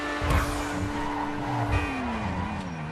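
A Grotti Itali GTO sports car in GTA Online brakes hard as its tires squeal in short bursts over a steady engine note, with the pitch dropping as it slows.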